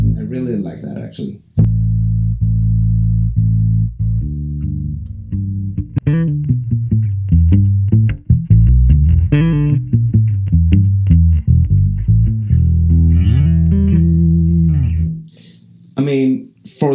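An electric bass runs through an Ampeg Venture V7 head and VB-210 cabinet, playing a long held note and then a busy melodic line of plucked notes, loud and close, with short bursts of other sound at the start and end.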